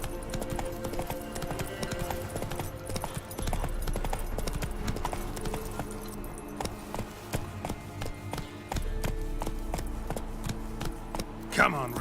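Roach, Geralt's horse in The Witcher 3, gallops with a fast, steady clip-clop of hooves that carries through the whole stretch, close and fairly loud, with a voice briefly underneath.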